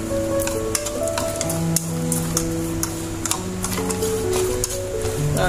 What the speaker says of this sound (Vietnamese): Trộn lên ha.